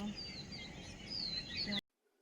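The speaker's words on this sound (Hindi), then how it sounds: "छत पे आने के बाद देखिए बहुत ही शांति थी और चिड़ियों की बस चहचहाने की आवाज़ सुनाई देती है" Birds chirping at dawn around a village rooftop at 4:30 in the morning, several faint tweets and short calls in quiet air before the sound cuts off abruptly.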